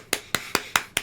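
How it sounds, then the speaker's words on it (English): A slow, quiet golf clap: five soft, evenly spaced hand claps in about a second, crisp and close, with nothing else around them. "Golf clap."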